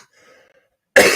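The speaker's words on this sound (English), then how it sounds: "I still have a little bit of a cough." After near silence, a single sharp, loud cough from a man still recovering from an illness.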